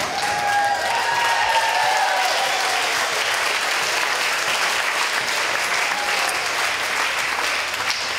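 Sustained audience applause at a 2014 multicultural festival award ceremony in Vevey, a dense, steady wash of many hands clapping throughout with no break.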